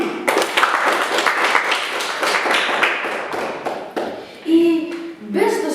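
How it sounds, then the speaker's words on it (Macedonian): Applause and clapping from a quiz show audience for two competing teams, dense and sustained for several seconds before tapering off into short tonal sounds. "Аплауз и за двата тима!"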